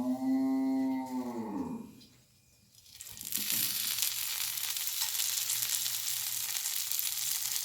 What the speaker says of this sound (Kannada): ಇಲ್ಲಿ ನೋಡಿ ಈ ಥರ ಆಯಿಲ್ ಹಾಕಿ ಸಣ್ಣ ಉರಿಯಲ್ಲೇ ಫ್ರೈ ಮಾಡಬೇಕಿದು.